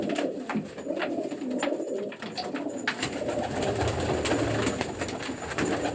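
Fancy show pigeons and doves coo steadily throughout, several low rolling calls overlapping at close range, with a faint background rumble joining partway through.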